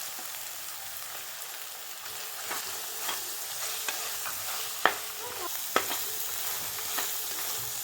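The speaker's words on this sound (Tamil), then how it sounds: "நம்ம அரைச்சி வச்சுருக்க தக்காளி சேர்த்துடலாம். சேர்த்து நல்லா கிண்டி விட்டுருங்க." Ground tomato and coriander sizzle in a pan while being stirred, a continuous close frying hiss with soft scraping strokes and a couple of louder clinks of the spoon against the pan, and no voices.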